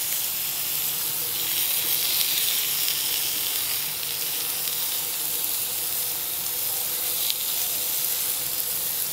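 Pork burgers sizzle steadily on a hot oiled grill, a continuous close hiss of fat and moisture with a brief louder crackle partway through and no talking.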